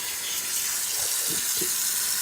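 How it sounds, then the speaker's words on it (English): Running water splashes steadily as freshly harvested kale and spinach greens are rinsed, with soft sloshing swells partway through; no talking. "So we're going to clean these greens"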